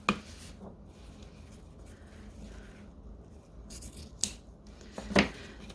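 Scissors making an angled cut through ribbon, quiet snips and a couple of sharp crisp closes near the end, faint rubbing in between.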